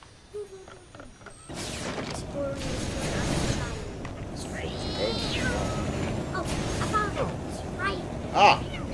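Cats meow and yowl in a Lego Movie 2 video game, repeated rising cries scattered through a busy backdrop of game sounds and bumps, with one louder knock near the end.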